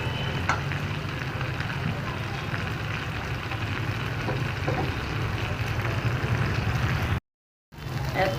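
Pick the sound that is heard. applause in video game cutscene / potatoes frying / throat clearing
potatoes frying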